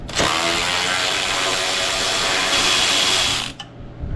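A ratchet wrench with a 15 mm socket works a strut nut on a 2006-2013 Chevy Impala, giving one loud, close, continuous rapid ratcheting run that stops abruptly.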